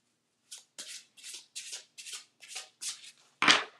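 An oracle card deck, the Talisman Oracle, being shuffled by hand in eight quick rustling bursts at a steady rhythm, with a louder, fuller riffle at the end, close and alone with no talk.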